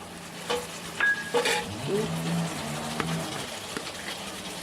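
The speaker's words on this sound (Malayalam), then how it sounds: "ഇനി നമുക്ക് ഇതിലേക്ക് തക്കാളി ഇടാം രണ്ട് തക്കാളിയാണ്" Two tomatoes go into a pan of Palakkad-style chicken and ash gourd curry. A soft sizzle follows with a few clattering drops and stirring knocks early on, faint and close, with no clear talk.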